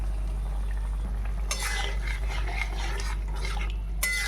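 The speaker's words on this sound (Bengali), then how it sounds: "কচু, আলু আর চিংড়ি মাছটা দিয়ে দেবো। দিয়ে ভালো করে কষিয়ে নেব।" Taro, potato and prawns being stir-fried in a pan after a little water has boiled, a low hum followed by bursts of sizzling and spoon scraping, with a sharper clatter near the end.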